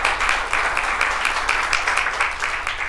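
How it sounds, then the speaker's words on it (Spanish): Applause for the Lord at a church service, a crowd clapping steadily and fairly loudly in a dense, rhythmic patter that keeps going for the whole stretch. "Démosle un aplauso al Señor"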